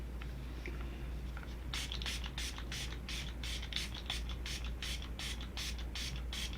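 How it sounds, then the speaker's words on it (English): A Catrice Prime and Fine Dewy Glow setting spray bottle is shaken briskly and close up. It gives about a dozen quick, even rattling swishes in a steady rhythm over a low background hum. "It seems like I need to shake it up"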